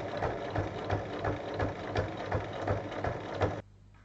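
A domestic sewing machine runs steadily, stitching a seam 5 mm from the edge along the front pocket panel of a fabric shoulder bag. The motor hums at close range with a rhythmic mechanical clatter for about three and a half seconds, then stops.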